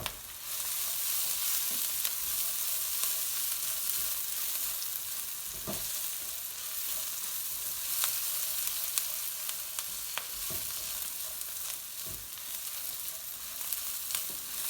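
Onions sizzle in a pan for garlic chilli fried rice, a continuous soft hiss of frying with occasional light scrapes and taps of stirring, steady and fairly quiet throughout, without talk.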